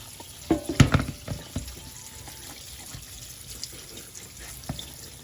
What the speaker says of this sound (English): I'm going to drain the juice and then rinse them off.